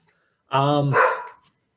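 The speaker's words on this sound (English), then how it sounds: "I got dogs too, man. I know the bark." A single short bark from a dog, a loud, close, harmonic woof that quickly breaks into a rougher burst and dies away within about a second.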